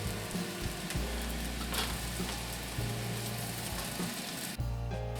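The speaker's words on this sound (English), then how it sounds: "Cook the Spam briefly." Diced Spam and softened onion sizzle in hot fat in a pan for fried rice, a steady close frying hiss with occasional stirring scrapes throughout.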